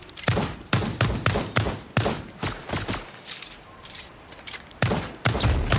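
Bursts of rapid gunfire with recoil in the video game Lost Skies, loud and close, firing in repeated volleys with a short lull in the middle before the shooting resumes.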